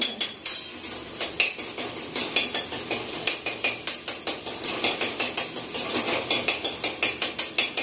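Eggs frying in a wok for chow mein, worked with a spatula: quick, steady metallic scraping strokes repeat in a fast, even rhythm throughout, close and fairly loud, with no talking.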